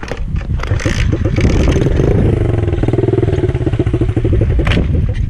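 A small pit bike engine sputters and catches after a few rough cranking bursts, then idles and revs with a rapid, loud, close putter and some mechanical clatter; no talking over it.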